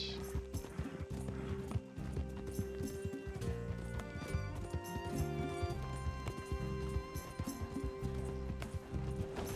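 Steady clip-clop of hooves of a horse galloping in Red Dead Redemption 2 at a fast, even gait, with a tonal music bed running underneath throughout; the horse whinnies briefly.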